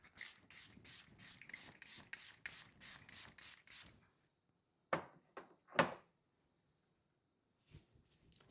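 Ten quick hissing bursts of face setting spray in a rapid rhythm, close and fairly faint, followed by silence and a few soft rubbing and handling sounds.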